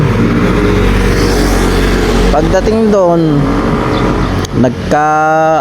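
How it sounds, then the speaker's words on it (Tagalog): Motorcycles racing along a road, engines revving and whining past in rising and falling sweeps, with someone talking over the steady rumble. "May nagkakarera na namang motor mga kapaling."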